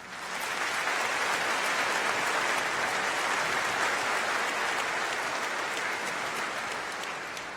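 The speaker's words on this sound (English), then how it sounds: "Please give them a round of applause." Sustained applause from a high school graduation audience honoring guests on stage, a dense, steady wash of clapping that swells in and holds loud for several seconds before easing slightly at the end.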